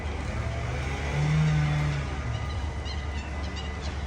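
A car passes through steady morning commute traffic, a smooth engine swell rising near the middle and fading away over a constant broadband street hum, with no voices.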